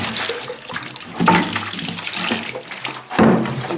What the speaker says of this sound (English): I've got a bucket here, I've got some water, and I'm going to basically run it through this